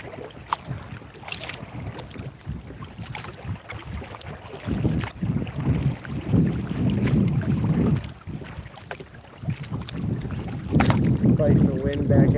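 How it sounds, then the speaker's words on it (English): Strong wind buffets a small fishing boat on a lake, steady rumbling gusts with water slapping the hull, loud and close throughout. "Fighting the wind back out of here for sure."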